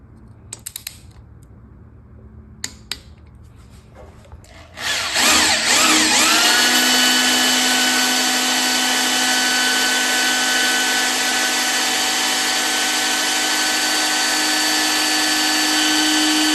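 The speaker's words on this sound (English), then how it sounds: "we'll put some blue Loctite on the bolts and get those cinched down" A power tool cinches down Loctite-coated bolts on the oil pan hold-down tray of a Ford 363 small-block engine. A few light clicks come first, then a loud, continuous whirring drone runs to the end.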